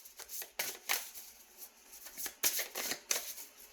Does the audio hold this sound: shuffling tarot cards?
yes